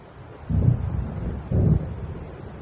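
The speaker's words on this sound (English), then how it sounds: "It seems there's a storm coming." Deep rumbles of an approaching thunderstorm in the video game Alan Wake Remastered, two heavy low booms about a second apart over a steady wind-like background.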